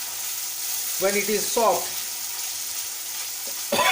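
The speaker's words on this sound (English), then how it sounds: "Easily just slice onion you will add here" Sliced onion frying in a pan for a mushroom masala, a steady soft sizzle running under the whole stretch while someone speaks briefly over it.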